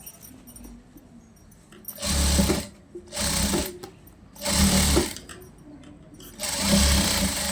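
Sewing machine stitching a long frock, four loud bursts of rapid mechanical whirring separated by short pauses, with a quiet voice talking in the gaps.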